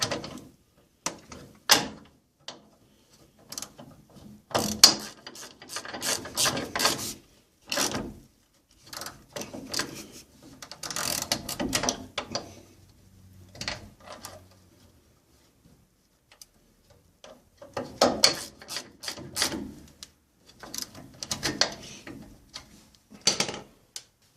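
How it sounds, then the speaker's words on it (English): Bolts being run down by hand to hold a wheel cylinder to the brake backing plate on a Dodge Dakota pickup, giving bursts of close mechanical clicking and tool rattles with quiet pauses between. "I'm going to start those bolts to hold the wheel cylinder to the backing plate. Alright, get both bolts started. Go ahead and run them down."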